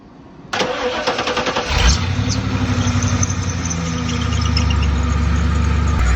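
An OBS Ford truck engine cranks briefly and fires up after an alternator install, catching with a loud burst before settling into a steady, close idle with no talking.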